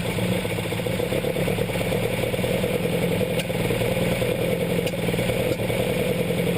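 A Pinto engine fitted with twin Weber DCOE carburetors runs at a raised idle, a steady close-up mechanical drone with light clatter holding even throughout.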